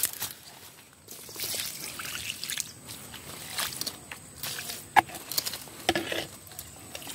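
Homemade liquid organic fertilizer made from goat urine splashes and trickles onto the soil at the base of a crystal guava plant in soft, uneven patters, with occasional sharper drips and handling noises nearby.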